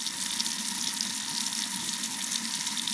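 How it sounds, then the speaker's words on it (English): Tap water runs steadily from a faucet, a continuous, even rushing and splashing that holds at one level for the whole stretch, close by and with no voices. "Tap water."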